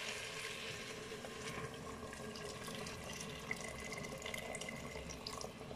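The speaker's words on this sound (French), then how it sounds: "je vais mettre de l'eau. Alors de l'eau chaude." Hot water poured into a Cookeo pot for chicken with olives, a steady continuous rush of flowing water from start to finish.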